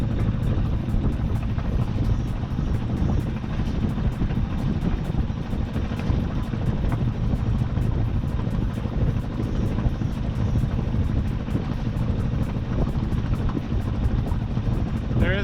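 A sailboat's motor runs steadily beneath the sailor, who is motoring out through a narrow channel. A continuous loud, droning hum is mixed with wind buffeting the microphone, close and unbroken throughout.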